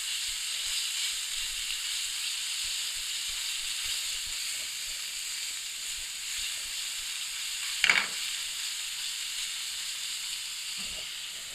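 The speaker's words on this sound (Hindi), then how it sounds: "1 टेबल स्पून लहसुन मैंने लिया, इसको पीस लिया। इसको हल्का सा फ्राई करेंगे।" Ground garlic, about a tablespoon, lightly frying in a pan, giving a steady close sizzle with a brief louder spatter near the end.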